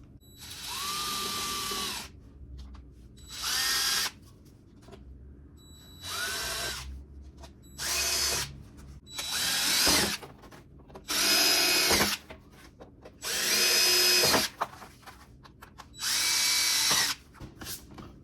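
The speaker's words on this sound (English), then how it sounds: "we're gonna go through right now and just drill out the holes" A power drill whirs in eight separate bursts of a couple of seconds each, boring holes through ABS plastic for mudflaps, with brief quiet pauses between holes.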